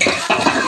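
Drumsticks and okra being stirred in a cooking pot for sambar, a short burst of spoon scraping and shuffling over a soft sizzle, close and fairly loud with no talk.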